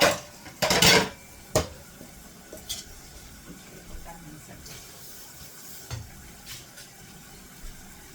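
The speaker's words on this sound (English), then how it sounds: "And to this, I'm gonna get my pan." A cooking pan is pulled out and handled in a home kitchen while steak chunks are prepared, giving a few loud close metallic clatters early on, then a quiet stretch with faint scattered knocks.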